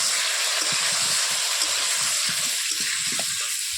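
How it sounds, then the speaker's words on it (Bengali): Potatoes fry in a pan with turmeric and salt, giving a steady, close, bright sizzle and hiss with soft low bumps from stirring, and no voice. "তারপর একটু হলুদ দেবো দিয়ে আলুটাকে এবার ভেজে নেব"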